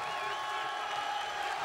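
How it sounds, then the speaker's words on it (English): A wrestling arena crowd at a TNA cage match roars after Trinity's leap from the top of the cage, a dense, steady wall of cheering that holds at an even level for the whole stretch. "Wow, the crowd's going."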